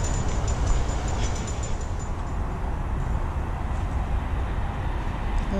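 Steady broadband roar of motorway traffic beside the Watford Gap service station, heard from a canal lock where narrowboats wait, a continuous dense rumble with no individual vehicles standing out.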